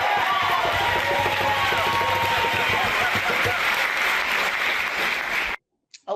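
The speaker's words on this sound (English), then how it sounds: "A lot of strong applause there." Strong applause from an audience, a loud, dense wash of clapping with some cheering and voices mixed in, sustained throughout before cutting off abruptly near the end.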